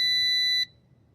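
A G11PRO drone emitting a steady high-pitched electronic startup beep, loud and close, which cuts off abruptly after about half a second and leaves quiet room tone.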